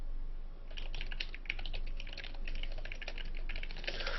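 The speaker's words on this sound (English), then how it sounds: "heard you typing" Rapid, uneven clicking of keys on a computer keyboard, close and fairly quiet, continuing steadily without pauses.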